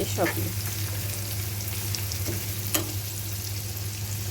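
Pangas fish pieces lightly frying in a pan, a steady close sizzle with occasional utensil scrapes and clicks and a low hum beneath, with a brief spoken word.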